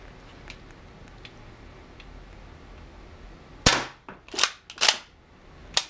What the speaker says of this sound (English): now we're gonna shoot all 8 shots into that from this distance